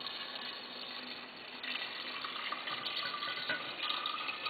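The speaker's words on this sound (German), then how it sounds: "Und fülle das dann ganz einfach mit Wasser auf." Steady running water pours into a vase, a continuous splashing gush that shifts slightly in tone as it fills, with no voices.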